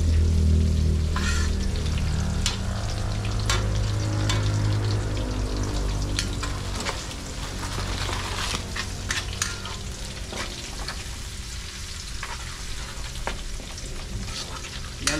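Bagoong alamang shrimp paste from Bataan sizzles steadily in a pan while it is stirred, with a continuous frying hiss, crackling pops and occasional scraping of the utensil. It is close and alone throughout.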